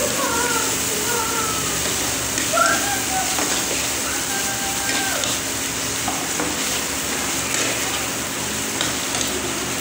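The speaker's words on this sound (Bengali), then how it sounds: "এই যে আদা রসুন দিয়ে একটু কষিয়ে নেবো।" Ginger-garlic masala sautéing and being stirred in a pan sizzles steadily and close by, with scraping strokes over the broad hiss and no talk over it.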